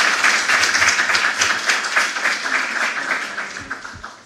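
Warm applause from an audience welcoming a pharmaceutical chemist at a talk on national medicines policy, dense steady clapping that slowly thins and fades toward the end.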